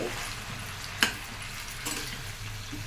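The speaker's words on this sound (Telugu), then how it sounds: "ఇలాగా మనము అంతా కలుపుకోవాలి" Food being stirred and mixed in a cooking pan with a soft, continuous scraping and faint sizzle, marked by one sharp utensil clack against the pan and a lighter knock later, with no voices.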